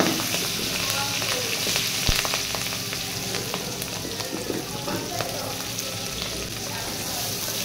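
Potatoes, panch phoron and chopped green chili frying in oil for a mixed vegetable dish, a loud dense continuous sizzle close by with faint clinks and scrapes underneath.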